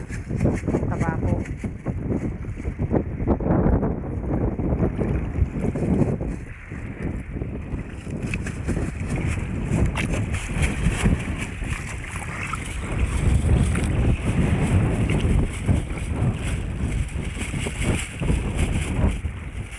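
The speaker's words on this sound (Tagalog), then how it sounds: "Malakas ang hangin, ulan." Strong wind buffets a traditional tuna fishing boat at sea, a loud, gusting roar of microphone-blasting wind and water noise that never lets up, with muffled voices underneath.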